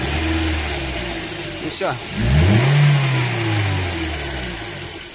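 Toyota Corolla E15 engine revved once, sharp climb then a steady higher hum as it settles back, close by, with a short spoken word and background noise around it.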